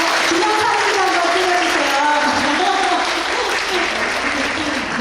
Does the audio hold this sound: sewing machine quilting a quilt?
no